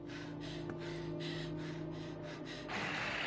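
Rapid, rhythmic heavy breathing of a character hiding in a horror video game, a run of short quiet puffs over a steady low hum before a softer, longer exhale.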